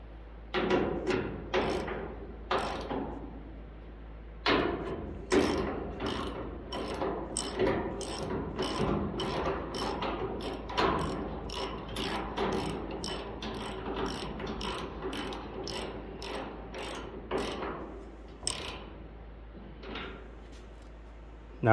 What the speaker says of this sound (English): Go ahead and take your socket and tighten it back up.